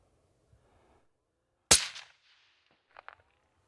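A single sharp rifle shot cracks out during a deer hunt, loud and close with a brief rolling echo, followed by a couple of faint knocks in otherwise quiet woods.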